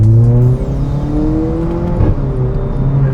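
A tuned VW Polo with cold air intake and Stage 2 tuning revs at half throttle, the engine note rising and falling in a steady, close, loud drone with no talk over it.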